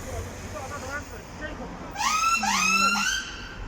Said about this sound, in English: Oh, there's another ambulance over here.